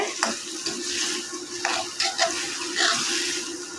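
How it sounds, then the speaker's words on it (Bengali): Banana flower curry with cumin is stirred and sautéed in a pan, producing a low steady sizzle broken by several scraping spoon strokes and clacks against the metal, heard up close with no speech. "এখন সুন্দর করে নেড়ে চেড়ে কষিয়ে"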